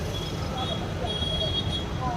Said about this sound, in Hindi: इतना शोर, इतना ट्रैफिक,